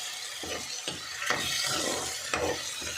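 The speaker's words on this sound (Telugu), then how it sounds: "ఇప్పుడు తాలింపు చేయాలి" Soft sizzling of a tempering of drumstick leaves frying in a pan, with a few scraping stirs at irregular intervals, close by and fairly quiet, no talking.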